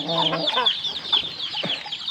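Native chickens cluck and murmur close by in a backyard flock, a busy overlapping chorus of short clucks with a few higher calls and no speech.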